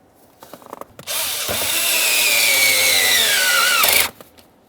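A powered ratchet snugs a 5.5mm bolt on the shift indicator bracket of a 2001-2005 Ford Explorer steering column. It gives one close, loud, continuous whir lasting about three seconds, its pitch sagging slightly as the bolt tightens.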